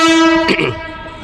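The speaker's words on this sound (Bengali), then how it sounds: "লোকাল ট্রেন আসছে যেটা খুব স্পিডে দ্রুত গতিতে আসছে সেটা হচ্ছে নৈহাটি মাঝেরহাট লোকাল" A Naihati–Majerhat local train speeds into platform 4 at Dum Dum Junction: a loud, sustained horn blares close by, then a sharp rushing burst of passing carriages that slowly fades.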